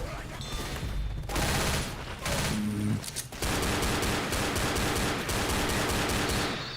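Sustained rapid Uzi submachine gun fire in Left 4 Dead, loud dense bursts nearly continuous, briefly broken around a short pause before the stream resumes.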